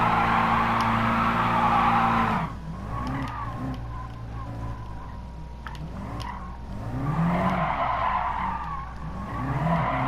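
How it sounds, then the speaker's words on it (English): A car spins donuts in a sim racing game, its tires skidding and squealing almost without a break over a steady engine drone. The screech fades a little midway, then swells again toward the end. "So it's doing donuts properly, where it just rotates basically in the center of the car."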